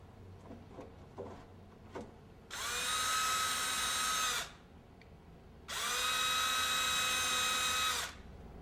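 A power drill bores pilot holes for a door latch in two sustained high-pitched whirring bursts of about two seconds each, close and loud, with quiet handling clicks between them.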